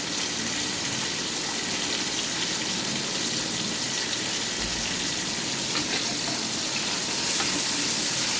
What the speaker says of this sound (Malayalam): എണ്ണ തിളച്ച് വന്നിട്ട് അതിനകത്തോട്ട് കഷ്ണങ്ങളിട്ട് മൂപ്പിക്കുകയാണ്.